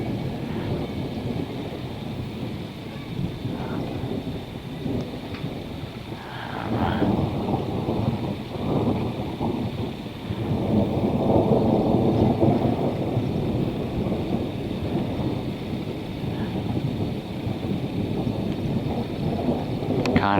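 A thunderstorm near cooling towers brings deep rolling thunder over steady rain and wind, swelling louder in the middle and continuing for the full stretch without talk.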